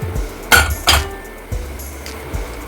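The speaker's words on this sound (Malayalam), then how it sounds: "ഇനി നമുക്ക് കുക്കർ തുറക്കാം" A pressure cooker is opened, giving a few sharp metallic clinks and knocks of lid against pot, close and distinct, with quiet pauses between them.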